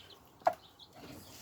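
A broody hen sitting on eggs gives a single short, sharp cluck close by, with quiet rustling before and after.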